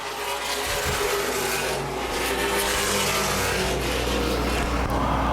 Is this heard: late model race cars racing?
yes